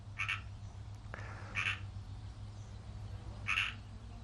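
Bullfrogs croak at a winery, three short throaty calls spaced about a second and two seconds apart over a low background hum, fairly faint and with no talk.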